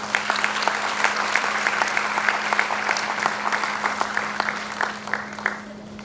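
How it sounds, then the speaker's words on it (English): Applause fills a hall for student leaders at a university first-year orientation, a dense, steady round of many hands clapping with a low constant hum beneath, tapering slightly toward the end. "let's give our student leadership a round of applause"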